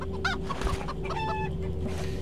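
Chickens cluck in the game Arx Fatalis, a few short, close, fairly loud clucks and squawks over a low steady hum of game ambience, with no speech.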